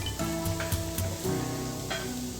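Chopped garlic and onions sizzle steadily in hot oil in a pan, a dense, even hiss with faint clinks of stirring, close and continuous with no voices.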